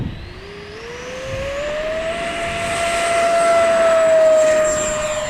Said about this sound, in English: this has got to be one of the sweetest EDF jets out there